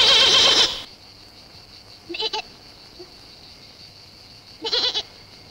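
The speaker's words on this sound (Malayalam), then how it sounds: "ഇതല്ലേ നമ്മുടെ ആട്?" A goat bleats twice, close by, in short wavering calls a few seconds apart, after a brief loud burst at the start, with quiet background between the calls.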